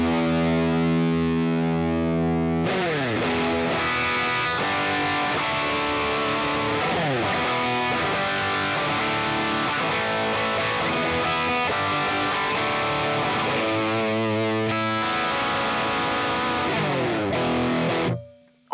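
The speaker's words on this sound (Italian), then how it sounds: "quello è un suono marshallone aggressivo" Quad Cortex modeling an aggressive Marshall-style amp: heavily distorted electric guitar played as chugging chords and riffs, loud and saturated for the whole passage, ending abruptly, with no talking.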